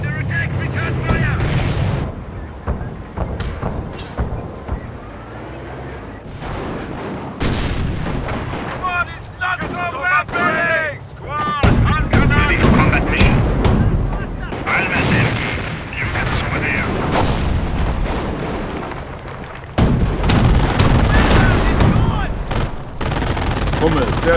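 Dense battle din from Company of Heroes Opposing Fronts, Operation Market Garden: bursts of gunfire and booming artillery roll on almost without pause for over twenty seconds, loud and close, with unit voices calling out between the blasts.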